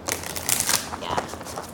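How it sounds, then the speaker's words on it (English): Playing cards shuffled during a tarot reading, a quick run of papery riffling and soft crackling bursts, close and fairly quiet, with speech-like murmuring around it. "Let's do one more shuffle"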